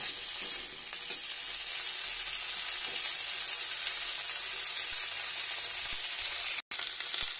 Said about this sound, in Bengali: এর মধ্যে আলুগুলো তুলে দিচ্ছি, আরো ভালো করে ভাজা হয়ে যাবে